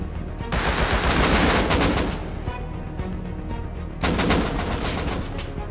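Heavy gunfire in the survival shooter Rust, with dense bursts of rapid shots in two loud waves and a short lull between them, close and without talk.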